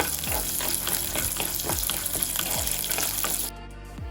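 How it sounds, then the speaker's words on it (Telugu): Peanuts sizzle and crackle steadily in hot oil in a pan on a stovetop while chutney is being made, with a dense frying hiss and a few low knocks. The sizzle drops off sharply near the end. "దాంట్లో కొంచెం ఆయిల్ వేసుకుని వేరుశనగ గుళ్ళు అయితే వేసుకుని"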